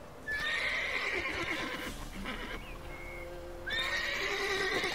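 Horse neighing twice in The Witcher 3 video game, loud and close, with hooves clip-clopping between the whinnies and no talking.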